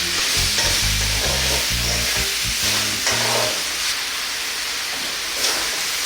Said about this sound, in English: We're going to stir this for just like 30 seconds or so